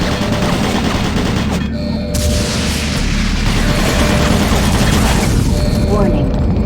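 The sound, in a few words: automated turret guns firing in video game Doom 3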